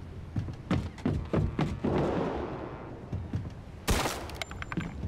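Gunfire in the video game Mafia 2 Definitive Edition: a quick run of sharp shots, a rumbling swell, then a loud burst followed by more scattered reports, all close and loud.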